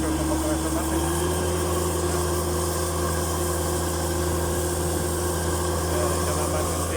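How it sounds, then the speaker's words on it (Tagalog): An air compressor runs continuously for cleaning Sonic pipes at a work site, a loud, steady engine-like drone with constant hum and no change throughout, while someone talks over it. "Naka-compressor na compressor natin."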